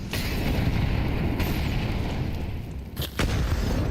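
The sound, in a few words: grenade exploding in the video game Counter-Strike 2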